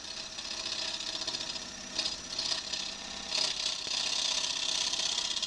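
Gouge cutting a wooden bowl on a lathe, the tip held forward of the hands with the bevel rubbing, giving a steady hissing, scraping cut with a few louder bursts as the tool bites.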